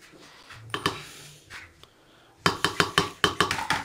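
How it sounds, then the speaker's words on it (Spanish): A few scattered knocks, then a quick run of about eight sharp taps against a gelatin mold to release bubbles, close and clear with no talking. "unos pequeños golpecitos, nomás para que se le vayan las burbujitas un poquito"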